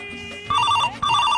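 A telephone rings with a bright, repeating electronic ringtone: two loud bursts of trilling tones separated by a brief pause, close and clear, with no one talking over it.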